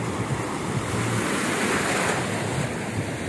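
Ocean surf rolls onto a clean, sandy hotel beach in a continuous loud wash of breaking waves, with wind buffeting the microphone and no voices.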